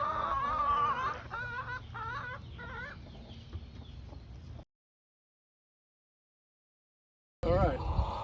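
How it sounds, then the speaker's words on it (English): Hens loosed on a mushroom farm as pest patrol cluck repeatedly at close range over low background noise, cut by a few seconds of silence before the clucking resumes. "When we get an infestation, we just let chickens loose on it."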